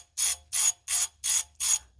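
Ratchet wrench loosening a camshaft sprocket bolt on a 1997 Jeep Grand Cherokee ZJ 5.2L V8, five even, close buzzy clicking strokes in a steady rhythm with brief pauses between them.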